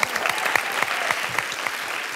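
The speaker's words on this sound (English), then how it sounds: "Round of applause for Mum" A studio audience at the Australian televised talent show Little Big Shots bursts into steady, dense applause, clapping evenly throughout with no other sounds standing out.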